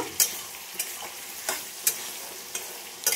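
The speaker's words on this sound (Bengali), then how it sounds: "আলুটা ভেজে নিচ্ছি" Potatoes frying in oil for katla fish curry, a soft continuous sizzle broken by several crisp spatula strokes against the pan at roughly half-second to one-second intervals.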